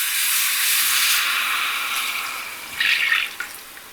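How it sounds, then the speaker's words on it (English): Cold whole milk pours into a hot gravy pan, making a steady, loud sizzling hiss that carries throughout and swells into a brief brighter sputter near the end. "we're going to add 2 cold cups of whole milk"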